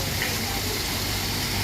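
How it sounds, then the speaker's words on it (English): Waterfall behind a cafe, a steady dense rush of falling water, continuous and fairly loud, with no talking. "at the back of this cafe, you can even see this waterfall over here"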